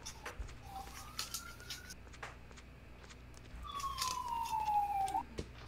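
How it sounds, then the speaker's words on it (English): A siren wails in the distance, its tone sweeping up and down in two long rising-and-falling passes over quiet background noise. "I hear sirens."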